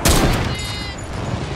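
A burst of gunfire in the video game Fortnite, a sharp loud blast at the start followed by a rapid rattling volley that tails off into a lingering echo.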